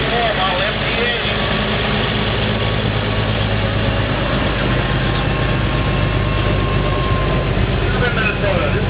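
A 1954 Model M tractor, built in Audubon, Minnesota, runs in a vintage tractor parade at Rollag, giving a steady, loud low engine drone with a continuous rumble throughout and no talk.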